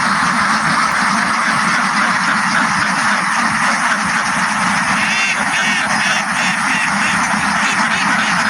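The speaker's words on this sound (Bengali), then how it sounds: "জলাশয়ের মধ্যে এইসব হাঁসগুলো লালন পালন করে" A large flock of native domestic ducks quacks continuously at an open-pen duck farm, a dense, steady chorus of overlapping calls filling the whole stretch at a loud, even level.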